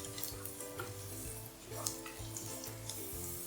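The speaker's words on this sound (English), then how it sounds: "Carrots have been cooking on a high flame for about a couple of minutes." Carrots fry over a high flame in a pan for chicken fried rice, giving a steady close sizzle with repeated stirring and scraping of utensil against pan throughout, no talking.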